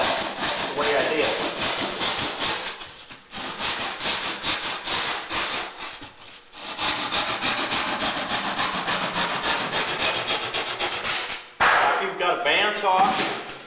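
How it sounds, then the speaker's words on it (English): Bandsaw cutting through foam for fish taxidermy, a loud steady rasping buzz of the blade that runs on for long stretches, breaking briefly a few times before a final pass. "Bandsaw really works good for cutting this stuff out."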